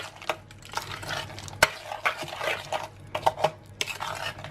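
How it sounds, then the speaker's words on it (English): Chocolate chips being stirred through gluten-free banana and coconut flour muffin batter in a bowl, with repeated soft scraping strokes and a few sharper clinks of the spoon against the bowl, close and steady with no talking. "add in the chocolate chips and just mix them through"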